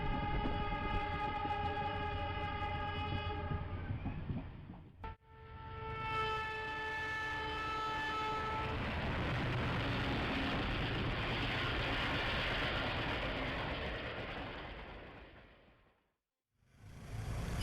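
An Indian Railways train, filmed in 2006, sounds its horn in loud, sustained harmonic blasts broken by a brief gap. A broad, steady roar of the moving train follows and fades out near the end.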